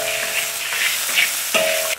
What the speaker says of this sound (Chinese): 大蒜子炒香，加入蚝油，来点蒸鱼豉油。 然后倒入水淀粉